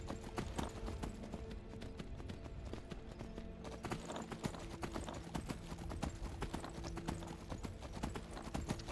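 Horse hooves clip-clop in a steady, rapid rhythm while riding in Skyrim, a continuous trotting beat over a busy game soundscape, with no talking.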